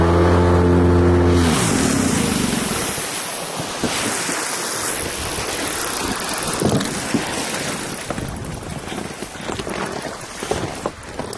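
A tunnel-hull boat runs its engine briefly, then drives up onto a riverbank, followed by a rough, wind-buffeted wash of water and scraping near the microphone.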